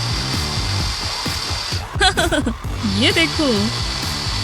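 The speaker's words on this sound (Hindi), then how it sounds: "मेरी ड्रिल।" A power drill whirs with a steady buzzing hum in a playful comedy scene, while voices speak and exclaim over the motor noise.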